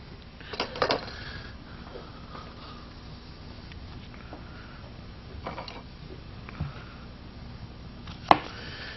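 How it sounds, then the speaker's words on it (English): A knife slices an onion on a new clean cutting board, with sparse light taps and a sharper cut near the end. "And we'll slice out an onion."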